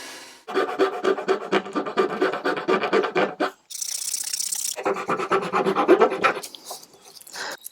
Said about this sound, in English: I glued this piece of wood, and now I'm going to shape this so it looks like the rest of the knob